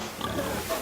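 Piglets grunting in a pigsty on a film set, soft and low under a steady wash of background noise, brief and continuous.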